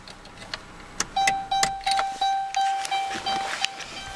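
A 2012 Dodge Grand Caravan after shutdown, giving a steady series of loud electronic chimes at a regular beat, each with a faint click, and no engine noise underneath.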